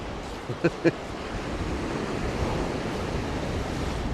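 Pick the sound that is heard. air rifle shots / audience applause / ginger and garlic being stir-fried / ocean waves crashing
ocean waves crashing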